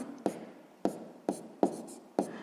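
Numbers being written by hand for a sixth-grade maths exercise: five crisp pen taps land at an uneven pace, each trailed by a soft scratch of the nib on paper, close and quiet with no speech.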